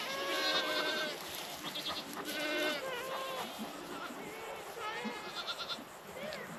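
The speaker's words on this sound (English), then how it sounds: "Now to move the goats." Goats bleat in a loud, overlapping chorus as the herd is moved to a new paddock, with repeated wavering calls throughout and a person's voice mixed in.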